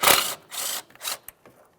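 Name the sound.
ratchet removing 8mm bolt from ABS wire bracket, Ford Fusion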